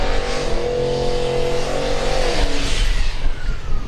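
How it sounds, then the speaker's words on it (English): A heavy all-steel Mopar drag car with a freshly upgraded cage and twin transmission coolers has its turbocharger winding down in the pits at a Summit Racing Midwest Drags event, loud and close, with a falling whine over rumbling engine noise. "You hear the turbocharger wind down on the Riddle machine"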